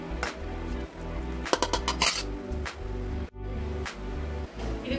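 Metal utensils clink and scrape against a bowl as fried gongura leaves are moved into it after cooking, a series of sharp light chinks over a steady background hum, with no talking.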